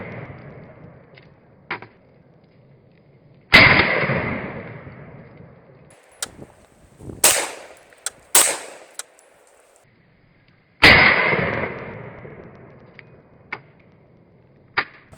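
Sharp, loud gunshots from a home defense firearm with its Kaw Valley compensator removed, two big reports several seconds apart, each with a ringing tail, among smaller clicks and metallic snaps between shots.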